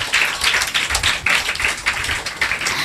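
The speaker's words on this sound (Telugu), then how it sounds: "నమ్మిన వాళ్ళందరూ చప్పట్లు కొట్టండి యేసయ్యకి ఒకసారి గట్టిగా." A group at a church vacation Bible school claps loudly together, a dense, steady patter of many hands carrying on without pause, with no talk over it.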